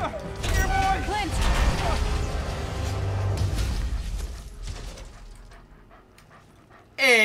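Dog in the video game Marvel's Avengers pants and whimpers under game sound effects and a voice, fading before a sudden loud burst at the end.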